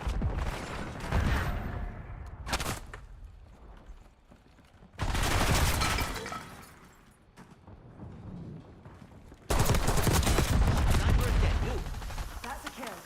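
Sustained gunfire in a shooter video game, dense rattling bursts in three loud waves separated by quieter gaps, with no one talking.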